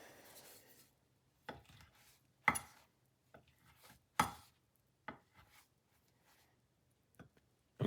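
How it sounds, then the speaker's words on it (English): A knife cuts the crusts off a slice of bread on a board in a quiet kitchen, a few sharp, separate close chops spaced out over the moment. "I like to chop off the crusts on mine."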